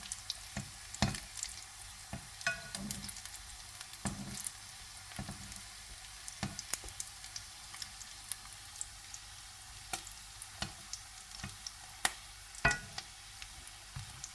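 Lumpia spring rolls frying in a pan, a steady quiet sizzle with scattered crackles and pops, heard up close on its own with no talking.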